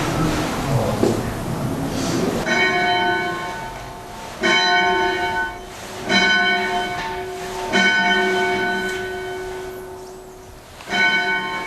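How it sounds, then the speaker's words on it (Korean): A church bell at a Catholic care home rings out in strong, ringing strokes, roughly five or six clear peals spaced a couple of seconds apart, each tone lingering before the next, close and loud with no talking. "힘찬 종소리로 시작된 성심원의 아침."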